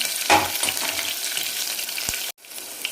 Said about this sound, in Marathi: आपण हे जे हिरवी मिरची आहे ती थोडेसे चटका लागेपर्यंत आपण याला परतून घेणार आहे